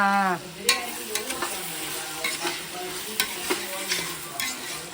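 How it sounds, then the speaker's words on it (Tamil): Ginger garlic paste sautés in a pan with a steady sizzle, broken by sharp scraping and stirring taps from a utensil, close up and without speech. "இஞ்சி பூண்டு பேஸ்ட்டு போட்டு நல்லா வதங்கிடுச்சு"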